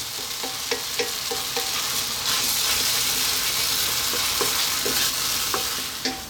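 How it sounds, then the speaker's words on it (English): Egg and tomatoes fry in a pan with a steady, close sizzle, broken by repeated clicks and scrapes of stirring throughout, with no voices. "I'm going to go for about another 3 to 4 minutes just to cook that egg in there with those tomatoes"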